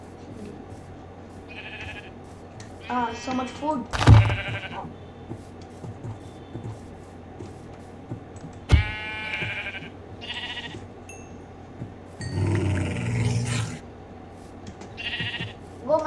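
Sheep in a video game bleat several times in separate short cries spread across the span, some loud and close. Someone talks in between, and there are scattered game effects.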